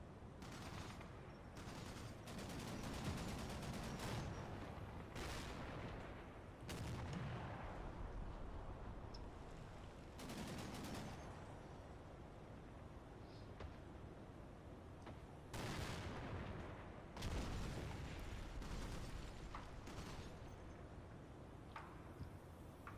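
Heavy gunfire and artillery in a wargame video game, with repeated loud bursts of fire and booming volleys rolling over a constant rumbling battle din, no talking.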